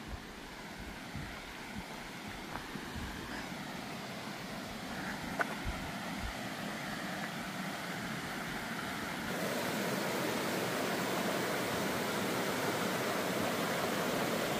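Water from a mountain waterfall rushes into a lake in the Hunedoara mountains of Romania, making a steady, broad roar heard alone. It swells noticeably louder partway through.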